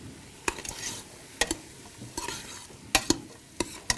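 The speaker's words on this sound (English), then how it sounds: "Give everybody a stir." A spoon stirs a corn jalapeño chowder in a pot on the stove. Sharp clinks and scrapes against the pot sound close by in irregular bursts, over a low simmering sizzle.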